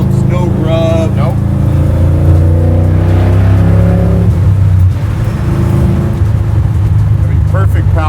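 Garage-built 600 hp square body Chevy truck accelerating hard, its V8 engine rising in pitch through a sustained loud roar, then dropping and building again, with people talking over it inside the cab.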